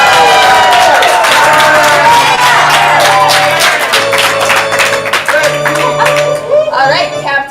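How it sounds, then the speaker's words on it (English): A live improv theater audience claps and cheers loudly, a dense burst of applause and whoops that thins out toward the end. "I need you to clap, cheer, make tons of noise."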